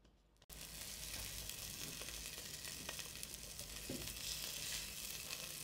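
Patty pan squash fries in hot oil in a pan, a steady close sizzle and crackle with occasional spits and stirring, no talk over it.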